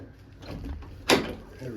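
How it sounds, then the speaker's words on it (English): A door to a garage or shed holding a motorcycle is opened, faint handling noise followed by one sharp scraping clunk, with a little background sound. "Let me see if I can open up this door."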